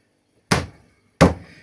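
A stuck sauce jar is banged twice on a hard surface, giving two separate loud, dull thuds about 0.7 seconds apart, close and alone with no talk.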